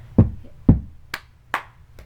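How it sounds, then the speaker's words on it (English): A cheer routine's hand moves at a group cheer tryout: two fist-into-palm hits land as low, thudding slaps, then two brighter, sharper hand claps follow, each stroke separate and close with short pauses between. "you're gonna start off with hit, clap"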